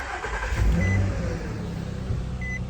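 A Nissan Xterra engine, recently diagnosed for a misfire, runs close by with a steady, smooth idle and a brief swell in revs early on.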